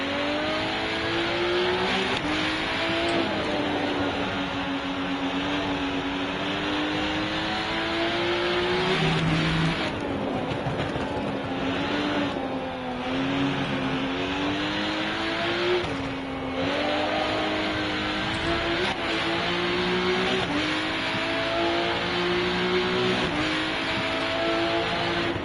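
Race car engine in the RennSport racing sim on the Nürburgring, revving and shifting through gears as the throttle opens out of a corner, with rising and falling engine tones and occasional tire noise, loud and continuous, no speech.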